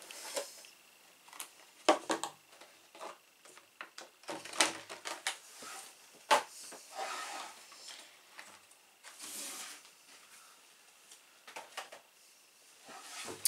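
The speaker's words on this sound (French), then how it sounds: "on va déballer ensemble le chalet alpin" Unboxing of a plaster model railway alpine chalet with a small chimney: quiet rustling of packaging, crinkly plastic and cardboard, with scattered sharp clicks and taps, soft and close.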